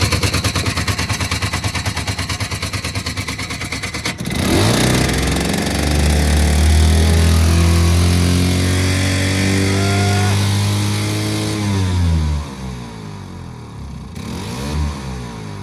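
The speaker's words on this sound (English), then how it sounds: "Let's go ahead and fire this thing up now and take it for a test spin." A 1970s ATTEX 6-wheeler ATV's small engine cranks rapidly, then catches and roars, revving loud and rough for several seconds before dropping off sharply, with a brief rev near the end, close up and with no talking.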